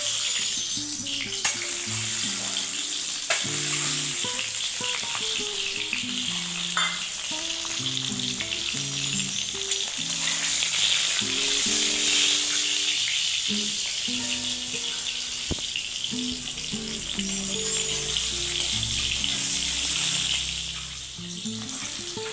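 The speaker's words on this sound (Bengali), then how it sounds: "এইভাবে লাল লাল করে আমরা ভেজে নেব" Eggs coated in salt and turmeric fry in mustard oil with a continuous, crackling sizzle, punctuated by occasional clinks and stirring, while soft background music runs underneath.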